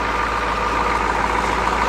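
CUCV military truck with a 6.2/6.5 liter diesel engine on fast idle, a steady, loud, close rumble with an even mechanical clatter throughout and no voices.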